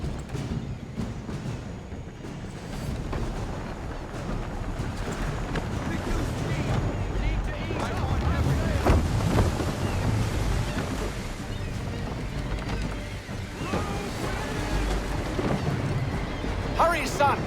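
Sailing ship at sea in Assassin's Creed III, a steady roar of waves, wind and creaking hull with low rumbling swells building and easing throughout, loud and continuous with no talk.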